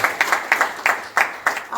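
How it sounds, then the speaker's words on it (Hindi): Audience clapping at a hospital gathering honoring cancer survivors, heard as sharp, close bursts of claps in a loose, repeating rhythm with short gaps between them. "जोरदार तालियां."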